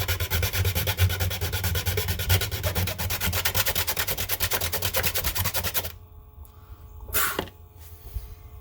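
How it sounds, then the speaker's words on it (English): Steady rapid back-and-forth rasping of hand sanding on a Mazda Miata interior part for several seconds, close and fairly loud, stopping abruptly followed by a brief scrape. "Ugh, hate sanding this crap."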